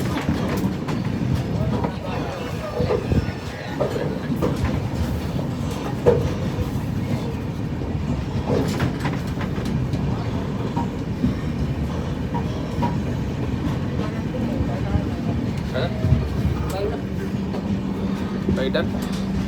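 Train running on rails on the return journey, heard from inside a carriage: a steady, loud rumble with rhythmic rail clatter throughout, with people talking over it.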